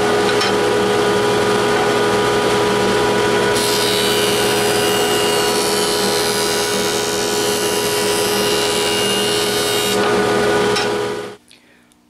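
A woodworking jointer runs with a loud, steady motor hum, and a board edge is fed across the cutterhead, adding a harsh cutting roar for several seconds before the machine spins down abruptly.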